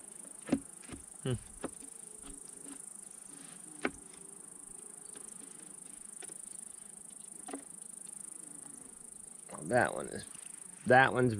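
A faint, constant high buzz of honey bees around a hive frame runs throughout, punctuated by a few sharp taps and brief closer buzzes near the end.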